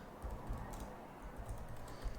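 Soft, quick clicking of a computer keyboard being typed on, quiet and close, in an irregular stream of keystrokes.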